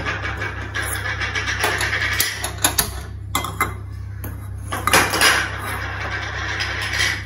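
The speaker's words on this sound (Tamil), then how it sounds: "ஒரு ஸ்டவ்வில் வந்து நான் தாளிக்கிற கடாயை வைக்கிறேன்." A metal tempering pan clanks and scrapes onto a stove in a few scattered knocks around the middle, over a steady low hum, with no talking.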